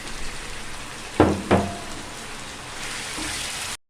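Meat and tomatoes frying with garlic ginger paste for bhuna gosht, a soft steady sizzle broken by two sharp bursts of crackle as food hits the pan, close up and without speech.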